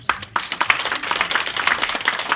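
An audience at an outdoor Namwon arts festival event for a writers' association claps together, a fast, dense patter of many hands sustained briefly after a sharp opening burst.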